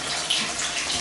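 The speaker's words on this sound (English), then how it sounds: "So there's the hot water." Hot water pours steadily from a bathroom tap with strong pressure into a draining basin, a loud, even hiss of running water with no breaks.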